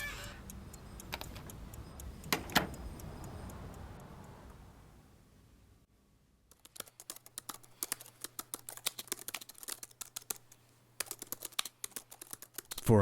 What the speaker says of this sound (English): For Amanda, typing the full manuscript of Roger's autobiography wasn't just another job.